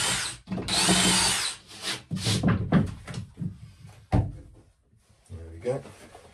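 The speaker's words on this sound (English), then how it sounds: "I basically go all the way through with this step drill." A step drill bores a 20 mm hole through an upper wall lining inside a narrowboat. A loud whirring burst is followed by intermittent grinding and clattering.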